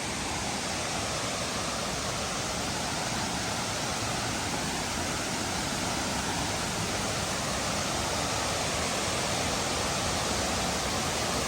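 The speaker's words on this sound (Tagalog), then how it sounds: "Wow, ito na yung falls." A waterfall in Australia roars as a dense, loud, unbroken rush of falling water, close and steady throughout with no voices.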